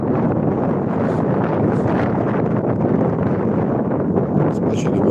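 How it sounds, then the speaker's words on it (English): Wind buffets a microphone outdoors in wet, rainy Scottish weather, a loud continuous broadband roar with gusty rustling that holds steady throughout. "It's windy, rainy, that old Scottish weather"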